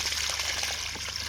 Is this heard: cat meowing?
no